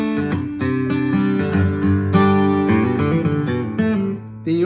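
Fast guitar pull-offs on the third string, bright plucked notes following each other in quick succession with sustained ringing tones, played close and clear with no talking.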